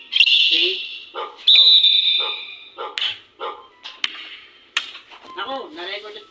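A dog barks in short, sharp bursts, several separate yaps and yips spaced through the scene, close and loud, with a person talking between the barks.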